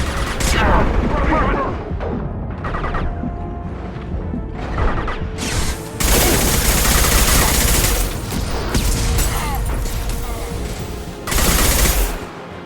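Heavy gunfire in Mass Effect 2 roars in sustained bursts of rapid shots and booms, loud and nearly continuous, with character voices calling out over the combat.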